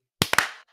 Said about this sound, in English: let's do a clap again real quick with that chip in your hand